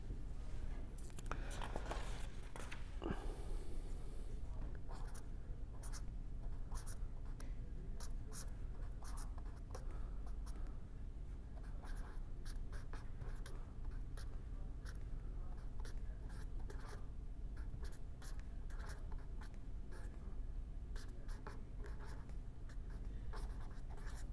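Chalk or marker writing out an equation on a classroom board, a long run of quick scratchy taps and strokes in an uneven rhythm, faint against a steady room hum with no talking.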